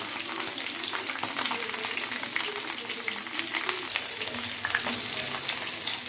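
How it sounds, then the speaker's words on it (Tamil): Ivy gourd (kovakkai) pieces frying in hot oil make a dense, continuous crackling sizzle, close and fairly loud throughout, with no one talking. "நம்ம இந்த மாதிரி எண்ணெயில் பொதிக்கிறதுனால லைட்டாக அந்த மாதிரி ஒரு சவுண்டு ஒன்றும் பிரச்சனை இல்லை"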